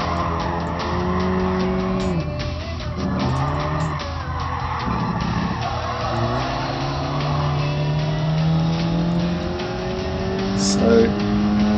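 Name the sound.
race car engine in Gran Turismo Sport video game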